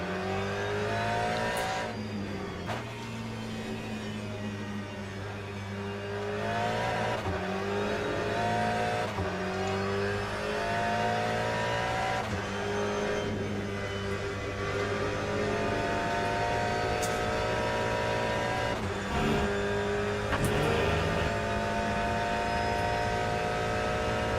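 A race car lapping the Portimao circuit in the Le Mans Ultimate sim, its engine droning loud and continuous with repeated rises and drops in pitch through gear changes and braking, with no talk.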